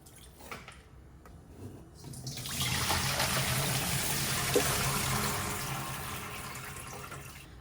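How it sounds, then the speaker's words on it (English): Vinegar poured into a bowl of water for soaking cauliflower gives a steady rushing pour that starts after two seconds and runs continuously, close and moderately loud, tapering slightly at the end. "I'm also going to add a little bit of vinegar and I'm just going to let it soak for a few minutes."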